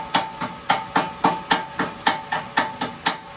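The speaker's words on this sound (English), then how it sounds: "We're going to chip this scale off from the rod." A hammer chips scale off a welded steel rod in a forge setting, striking about a dozen sharp, evenly spaced metallic blows, close and clear with no talk.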